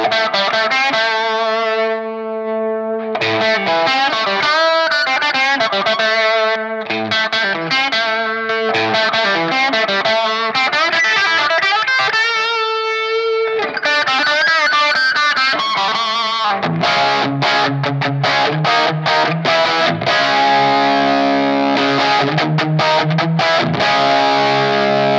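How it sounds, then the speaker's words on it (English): An electric guitar plays through a Positive Grid Spark practice amp using its tube drive, an overdrive much like a Tube Screamer, giving distorted, mid-heavy chords and riffs that run continuously and loud, with no speech. "tube drive, which is kind of like a tube screamer."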